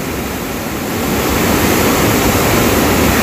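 Saitwade waterfall roars in heavy monsoon rain, its broad, loud rushing noise filling everything and swelling even stronger after the first second, with no voices.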